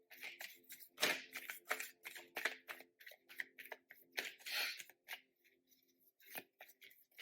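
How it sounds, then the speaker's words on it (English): Tarot cards riffle and slap in quick irregular bursts of crisp papery clicks and flutters, close up, with brief pauses between shuffles. "I'll keep pondering on these cards while I'm shuffling here."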